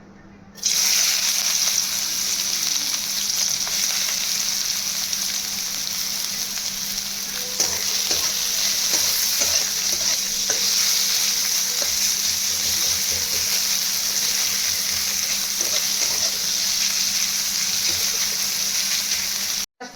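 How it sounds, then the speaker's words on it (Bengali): Onion frying in oil in a wok, a loud steady sizzle that runs continuously after a brief quieter start, with occasional stirring scrapes and clicks. "কড়াইতে কিছুটা তেল দিয়ে পেঁয়াজটা দিয়ে দেবো"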